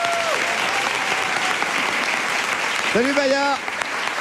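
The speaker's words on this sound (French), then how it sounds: "Merci d'applaudir bien fort Baya Kasmi." A television studio audience applauds steadily as a guest is welcomed, with a dense, even wash of clapping while a voice briefly greets her over it.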